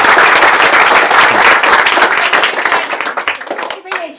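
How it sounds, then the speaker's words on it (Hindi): A large crowd at a motivational talk claps loudly and continuously, a dense roar of hand claps that thins slightly toward the end, with some voices underneath. "ये आप MLA के लिए तालियां बजा रहे हो, प्राइम मिनिस्टर के लिए बजानी है"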